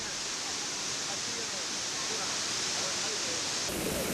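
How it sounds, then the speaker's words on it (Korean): A large karst waterfall in Yunnan, China, roaring steadily as a dense, loud wash of falling water with no breaks. "그래서 이 소리가 폭포가 다른 데보다 크잖아요"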